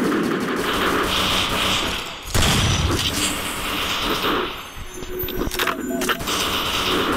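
Gunfire in a shooter video game, with loud bursts of rapid automatic shots and heavy booms filling the mix, close and dense throughout.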